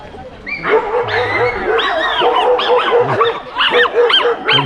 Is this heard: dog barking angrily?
yes